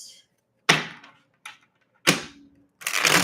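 A deck of tarot cards is shuffled up close in a quick run of sharp, crisp riffling bursts separated by short pauses, with no voices.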